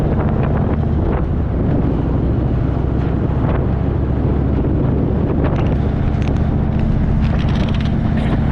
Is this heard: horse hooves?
no